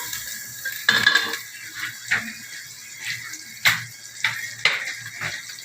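Butter going into a pan for pasta in a home kitchen: a run of light metallic clinks and clatters of utensil against pan, scattered and intermittent, close and fairly quiet.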